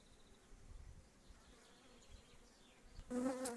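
Continuous buzzing of many honeybees close by at an apiary hive during swarm capture, with a louder, sharper buzz as one passes near the end.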